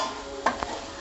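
Mushroom masala frying in oil, a soft close sizzle with a couple of quick stirring scrapes in the pan, no talk.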